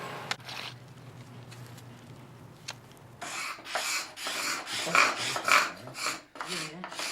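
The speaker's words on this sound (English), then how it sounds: "My least favourite job is definitely scraping down benches and putting linseed on them." Wooden cathedral benches being scraped down, with rough rasping strokes that begin faintly and become loud and rhythmic in the second half, each stroke a distinct close burst.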